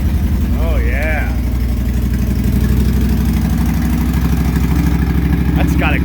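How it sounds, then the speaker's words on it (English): A 2008 Yamaha V Star 1300 V-twin cruiser with Cobra pipes idles close by with a deep, steady, loping rumble, and someone talks briefly over it. "That's got a great deep sound. It's like I said, those Cobra pipes really bring this bike to life."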